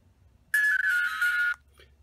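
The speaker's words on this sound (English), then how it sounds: "and that is the on sound tone" Power-on tone from an Elephone REXSO Explorer K action camera: a single bright electronic beep lasting about a second, clear and close against near silence.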